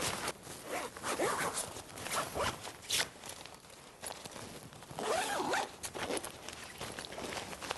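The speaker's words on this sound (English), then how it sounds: "then it's just a case of zipping it up" The zips on an Outwell Fusion 400 family tent are run up in several long, close, rasping pulls, with small pauses between them.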